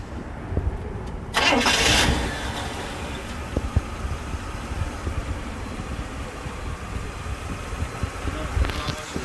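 A 1976 Cadillac Sedan DeVille engine cranks and catches with a loud start, then settles into a steady, close idle that rumbles on for several seconds with no talking.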